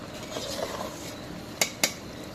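A spoon works through a thickened curry in a pot over a low background sizzle. Quiet scraping gives way to two sharp metallic clinks close together near the end.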